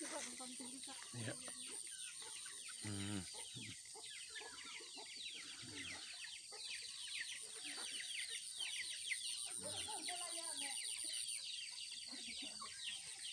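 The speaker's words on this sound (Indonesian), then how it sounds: "Di samping-samping ini ayam." A flock of chickens in a farmyard clucks steadily throughout, with scattered calls over a constant background, faint and somewhat distant.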